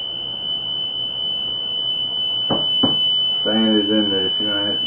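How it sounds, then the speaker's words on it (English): A smoke or fire alarm shrills with a steady high tone in a home kitchen during watermelon rind preserving, while a person exclaims and speaks nearby. "I just set the fire alarm off."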